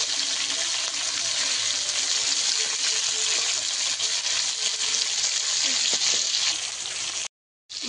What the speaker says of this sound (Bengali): ইলিশ মাছ ভাজার সময় একটু সরষের তেল দিয়ে ভাজা করলে ইলিশ মাছের টেস্ট বেড়ে যায়।